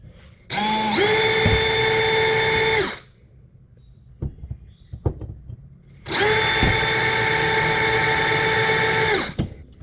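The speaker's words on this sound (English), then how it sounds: "I'm going to go ahead and take a spot drill" A spot drill bores pilot holes into a brake pedal for an S2000 pedal spacer install, whining loudly in two sustained bursts of about two and a half seconds each, with clicks and handling noise during the pause between them.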